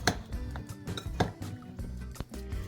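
Zucchini being stirred with a couple of spoonfuls of refined oil in a dish, utensil clinking and scraping against the bowl in uneven strokes, close and fairly quiet.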